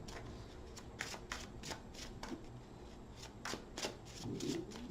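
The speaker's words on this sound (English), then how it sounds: "One more shuffle." A deck of tarot cards is shuffled by hand, with a rapid series of soft riffling flicks and slaps, close and quiet with no talk.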